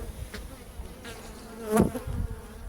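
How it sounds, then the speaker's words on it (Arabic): Honeybees in a hive cluster around a queen cage, making a continuous close buzzing hum with a brief louder swell as individual bees move near. "النحل يلتم نحو هذه الملكة، نحو هذا القفص، لأنه يريد هذه الملكة"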